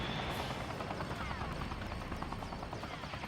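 An aircraft in the PS1 game Black Dawn drones loudly overhead with a continuous thrumming, rotor-like buzz that fills the whole stretch, heavy and close, with no talk over it.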